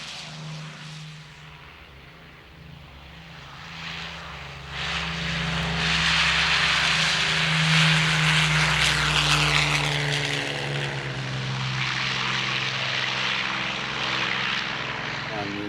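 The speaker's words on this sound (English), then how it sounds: "Here's the HE-111, first time ever at Wings of Eagles. Take a look, give a listen." A Heinkel He 111 twin-engine bomber at an air show runs its engines, a steady propeller drone that swells louder midway and holds, with someone talking over it.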